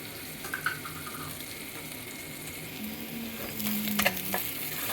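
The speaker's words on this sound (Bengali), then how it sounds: "এই পেঁয়াজটা একটু লাল লাল করে ভেজে নেব" Onions frying in a pan for a prawn and bottle-gourd curry give a steady, moderately quiet sizzle, with a few brief clinks of a utensil stirring near the end. No one speaks.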